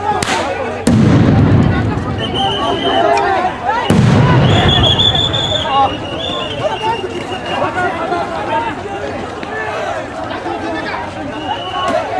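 Police sound grenades going off at a street protest, with two loud booming blasts a few seconds apart over a noisy crowd, with shouting and a reporter talking throughout.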